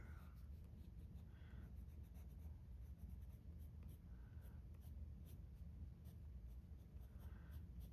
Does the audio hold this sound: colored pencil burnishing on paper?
yes